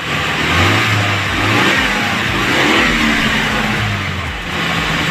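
A fuel-injected car engine revs up and down in steady swells during a tune-up, its drone rising and falling, close and loud with no talking.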